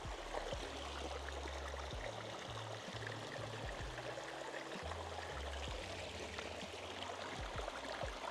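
Spring water trickles straight out of the rocks in a remote Tajik mountain village. The flow is faint and steady, with a low hum underneath.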